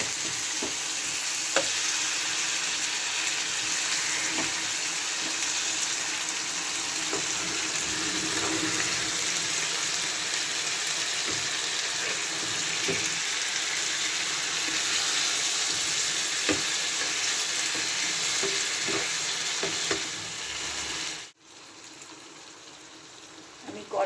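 Loitta (Bombay duck) fish fries in a pan with a steady, loud sizzle, broken by soft scrapes as the delicate pieces are gently flipped, and the hiss cuts off abruptly near the end.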